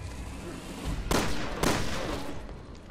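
Two sharp gunshots from an upgraded pistol in the video game Resident Evil Revelations 2, about half a second apart, punching loudly over a low ambient game background.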